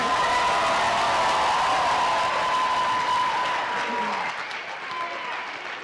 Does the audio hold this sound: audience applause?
yes